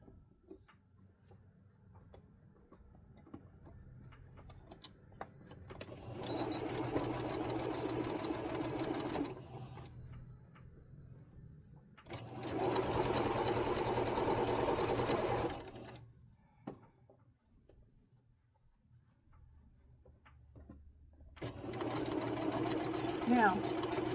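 A sewing machine stitches quilt blocks together in three sustained bursts of rapid mechanical whirring, separated by quiet pauses where a person talks softly.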